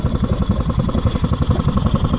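Jeep Rubicon engine with snorkel idling at a steady, close clattering rumble while wading in a pond, no voices over it.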